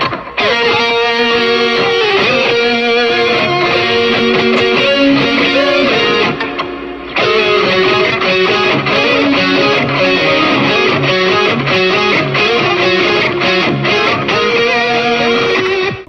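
Harmony guitar layered with the main distorted electric guitar from a song recreation, loud gritty interwoven melodic lines moving in parallel, with a short break near seven seconds before the dense riffing resumes, no voices.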